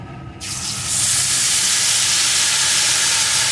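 Cashew and poppy seed paste hits hot oil with fried chillies in a pan, bursting into a loud, steady sizzle that rises after a brief quieter start and holds close and continuous.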